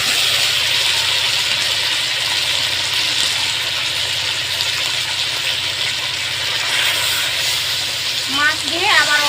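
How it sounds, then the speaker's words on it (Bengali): Fish dropped into a pan of frying spice masala with tomato, a steady close sizzle and hiss throughout, with a little clatter of stirring near the end. "এবারে আমি দিয়ে দিচ্ছি মাছ।"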